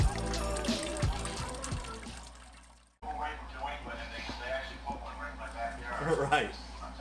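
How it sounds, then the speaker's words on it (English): On a homebrew SMaSH brew day, first runnings of wort trickle and pour from the mash, a continuous liquid splashing that cuts out briefly and resumes, with people talking throughout. "The filtering sounds like it's really good right now."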